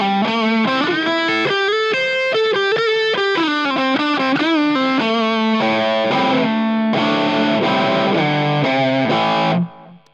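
Epiphone Les Paul Custom Pro electric guitar, 2014 model, played with both pickups wired out of phase: a run of distorted, thin, nasal chords and notes through an amp, loud and continuous, ending abruptly.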